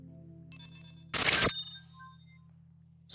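Another software notification in an Unreal Engine project: a bright ringing chime opens, then a short airy swoosh, and the tones fade to a quiet hum. It sounds alone and close, with no voices.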